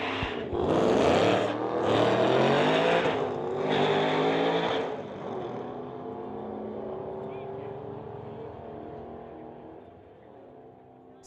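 Two 2011 Ford Mustangs launch side by side in a street-legal drag race, engines roaring loud and close through the first seconds, then fading as the cars pull away down the strip, with an announcer talking over them.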